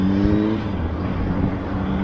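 Moped engine revving loudly and continuously at close range, a buzzing, strained engine note with no talk over it.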